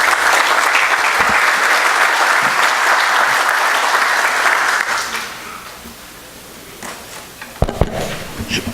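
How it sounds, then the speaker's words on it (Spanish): Audience applause at an international arbitration congress, a dense, steady ovation of many hands that fades after about five seconds, leaving a quiet room with a few scattered knocks and handling noises. "Le brindamos fuertes aplausos"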